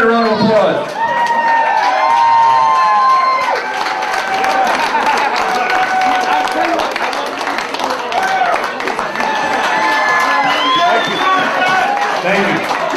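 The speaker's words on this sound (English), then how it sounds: "Let's all give Jerry Cadorette a round of applause." A large crowd applauds and cheers for the winner of a 2005 Northeast arm wrestling match, with steady loud clapping and shouts lasting throughout, mixed with voices calling out.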